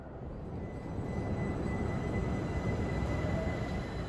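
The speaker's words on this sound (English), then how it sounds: "I decided to stay on the platform to get this shot of the train station when the next train approaches" A commuter train rumbles into a suburban Tokyo station platform, a steady, fairly loud rolling roar of wheels and cars with a faint high squeal running through it, no voices.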